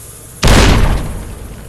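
A frag grenade in the video game Fallout: New Vegas goes off as a single loud, close boom with a heavy low-end burst that decays over about a second, with no speech.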